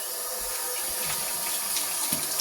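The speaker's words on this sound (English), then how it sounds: "I just want to wash my hands" Hands are washed under a running tap, with water pouring in a steady, soft hiss. No one speaks.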